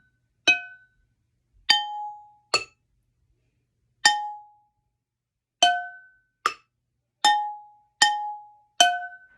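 A spatula strikes cooking pots nine times in a slow, uneven rhythm, each bright metallic clang ringing briefly at one of two pitches.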